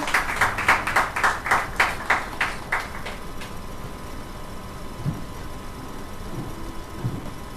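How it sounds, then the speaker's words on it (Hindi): Loud, rhythmic group clapping at a Thursday church healing service welcoming a preacher: about ten steady, even claps over three seconds, then the clapping stops and the room settles into a low hum and faint murmurs. "तो आइए हमारे परमेश्वर के दास को हम स्वागत करेंगे तालियों के साथ में, जोरदार तालियां।"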